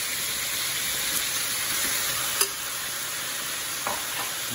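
Sausages going into a pot of sizzling browned meat for a Bahian cozido, a steady close frying hiss with a couple of brief clinks and a soft thump as pieces land.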